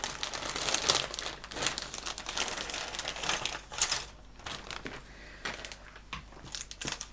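A crinkly plastic packet holding Tamiya model kit sprues is torn and handled up close, giving a dense stream of crackling, rustling bursts with no speech.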